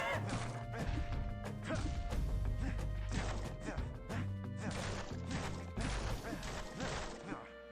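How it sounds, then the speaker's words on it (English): Repeated smashing and whacking hits as the player character breaks walls in the video game Bastion, dense and loud with game music and effects underneath, impacts landing in quick succession throughout. "Stop smashing the walls, honey."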